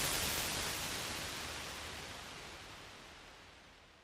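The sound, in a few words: Taj Mahal reverb impulse response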